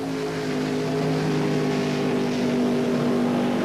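Ray Beadle's Blue Max funny car roars through a single drag run at the 1977 NHRA Gatornationals, a steady, distant engine drone that holds without break.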